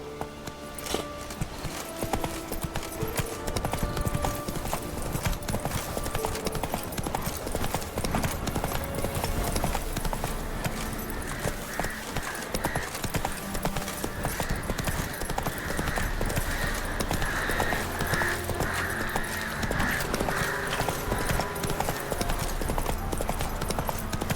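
Roach, a horse in The Witcher 3, gallops with a steady, close clip-clop of hooves that runs throughout beneath a loud, continuous musical score.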